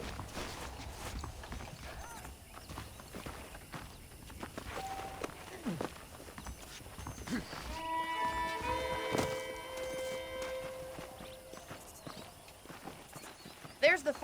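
Horse hooves clip-clop steadily through a Western town in Red Dead Redemption while someone talks over them; the hoofbeats are moderately close and continuous.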